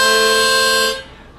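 Harmonic minor harmonica sounding a tongue-blocked octave on holes 1 and 5, one steady reedy chord held close and loud for about a second before it stops.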